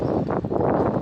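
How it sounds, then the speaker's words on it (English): Steady, heavy wind buffeting the microphone on an exposed bridge in Chigwell village, with gusting low rumble filling the whole moment. "It's very windy actually"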